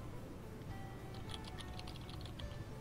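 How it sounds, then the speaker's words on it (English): Faint, quick typing on a computer keyboard, soft clicks that are muffled and distant under a steady background hiss. "but not the keyboard? Type some."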